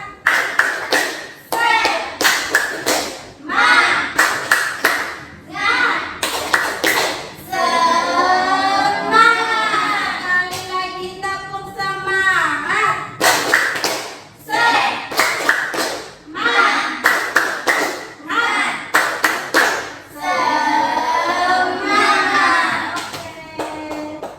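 A classroom performs a rhythmic group clapping chant, with bursts of patterned claps alternating with children chanting and singing together, repeated in loud cycles with brief pauses.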